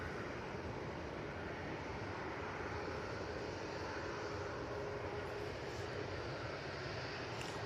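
A KLM Boeing 737 departing Manchester Airport, heard as a steady, even jet roar at moderate distance, constant in level with no voices.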